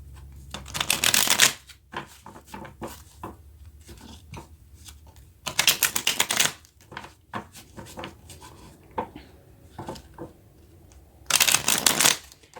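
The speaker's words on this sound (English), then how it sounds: "Give them a quick shuffle." Three bursts of crisp, riffling tarot card shuffling, each lasting about a second, separated by quieter handling and tapping of cards.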